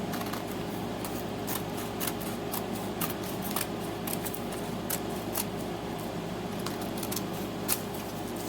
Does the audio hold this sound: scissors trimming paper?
yes